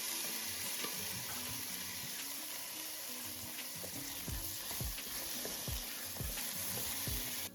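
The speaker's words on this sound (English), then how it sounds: "Fry for about 3 to 4 minutes on medium heat." Carrots and lentils fry in a saucepan over medium heat, a steady close hiss of sizzling oil running throughout with repeated scraping strokes of a spoon stirring in the second half.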